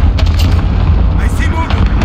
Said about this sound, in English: Cluster strike away.